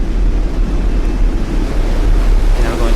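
Rushing water and wind noise from a plane skimming through the ocean in Kerbal Space Program, a steady loud wash with low rumble throughout.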